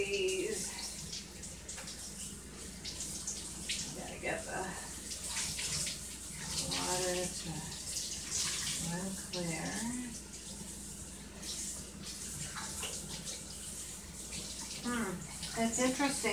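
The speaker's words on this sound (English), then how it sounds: "let me just rinse it one more time" Running water splashes steadily from a tap as blackberry-dyed fabric is rinsed and squeezed, a continuous gushing flow with someone talking over it throughout.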